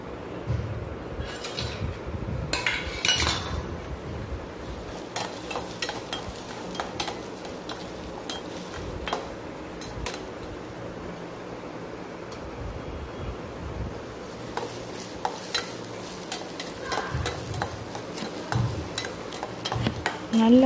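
Onions frying over a full flame for pav bhaji, with a steady sizzle and repeated clinks and scrapes of a spoon against the pan as they are stirred, close up and continuous for about twenty seconds.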